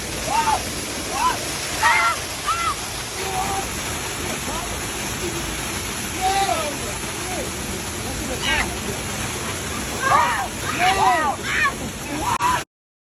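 A waterfall in Puerto Rico roars with a steady broadband rush of falling water, loud and constant throughout, while several people talk and call out over the noise.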